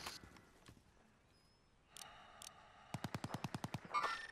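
Automatic gunfire in a video game rattles off as a rapid burst of about a dozen loud, evenly spaced shots near the end, after scattered earlier pops and a short mechanical sound.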